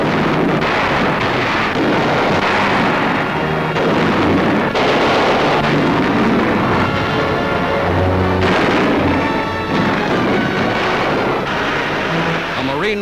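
Heavy artillery and enemy gunfire during a World War II battle in a valley, sounding as a continuous loud, dense roar of blasts and bursts with deep booms throughout.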